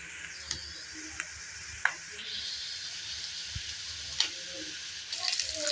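Drumstick leaves tossed into onions frying in a pan set off a soft, continuous hiss of sizzling oil, with a few faint clicks and taps and a louder burst of crackle near the end.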